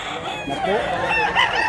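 A one-year-old Hatch Hennie rooster crows loudly and close by at a poultry sale in Mantalungon, Cebu, a single rising, wavering call over background noise and faint voices.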